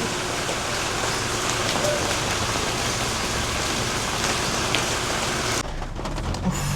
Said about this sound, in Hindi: बहुत बारिश हो रही है.